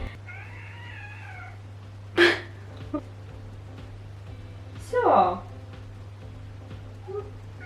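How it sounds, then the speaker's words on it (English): A four-month-old kitten meows a few times in short separate calls, fairly close, over a constant low hum in a quiet indoor room. "This is my cat."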